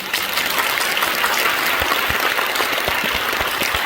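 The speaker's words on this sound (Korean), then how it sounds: "하나님 앞에 다시 한번 감사의 박수를 드립니다" A congregation at a Korean Liberation Day commemorative worship service in a large church auditorium gives a loud, sustained round of applause in thanks to God. Dense clapping fills the hall at an even level, with no speech on top.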